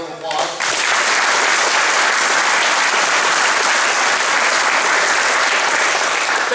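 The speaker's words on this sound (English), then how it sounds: "Let's give him a round of applause." An audience at a jiu-jitsu tournament breaks into a loud round of applause after a brief moment of speech, the dense clapping sustained and steady to the end.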